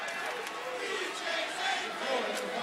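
A basketball crowd at a Kentucky versus Florida game chants in a loud, rhythmic roar that swells and falls across a big arena, with a commentator's voice over the top.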